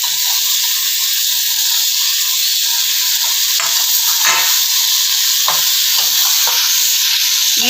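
Onions sizzle in hot oil in a pan while a spoon stirs them, a steady bright frying hiss broken by several scraping stirs, close and loud with no talking.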